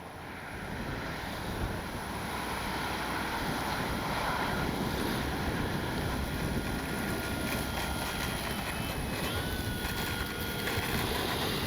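Strong gusty wind buffets the microphone in a constant loud roar, with a faint higher whine running through it.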